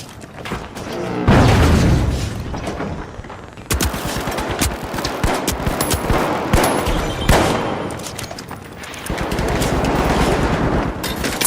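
Frag grenade and gunfire in a video game: dense, loud bursts of rapid automatic fire with booms mixed in, continuing almost without a break through the whole stretch, with no voices.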